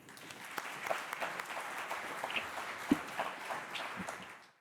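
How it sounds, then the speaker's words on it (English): A conference audience applauds, steady clapping from many hands at a moderate distance that holds for several seconds and fades out at the end. "would you give a round of applause to our winners?"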